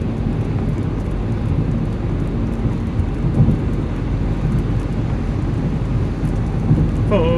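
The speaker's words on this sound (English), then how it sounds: "now it's 14 and pissing down rain" Steady, dense roar of heavy rain fills the whole stretch with a low rumble underneath, constant and loud throughout.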